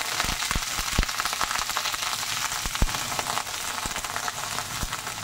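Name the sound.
chopped water lily stems (shapla) frying in hot oil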